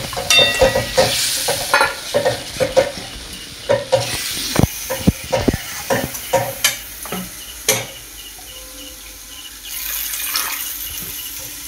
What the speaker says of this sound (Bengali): এবার বাটি ধোয়া জলটা দিয়ে দেবো।